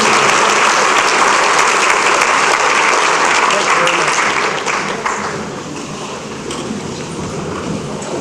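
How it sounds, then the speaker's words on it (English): A crowd claps loudly and steadily at a Chamber of Commerce awards event, then the applause thins and fades to a softer patter toward the end. "Come on, somebody clap for Connersville."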